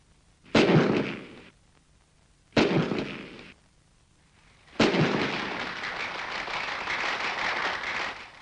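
Gunfire rings out at a shooting performance by three generations of one family, in an old newsreel recording. Two separate loud reports each trail off into a fading echo, then a third burst runs into a long, dense, crackling stretch.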